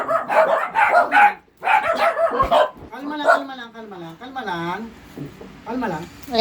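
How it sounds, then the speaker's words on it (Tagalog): Several dogs bark and yip in a group outburst, close by and fairly loud, with bursts of barking mixed among a man's calm spoken commands to the dogs. "nagtahulan sila kasi po, dumaan po si Billy"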